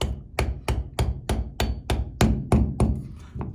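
Ten sharp, evenly spaced hammer blows tapping plexiglass guard corner pieces together during desktop PlexiGuard assembly, each strike close and crisp, slowing slightly near the end, with no voices.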